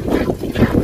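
Wind buffets the microphone outdoors in a steady, loud rushing roar with low gusty swells, close and unbroken through the short moment.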